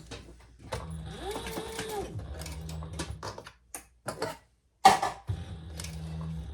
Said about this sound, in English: Okay, let's top stitch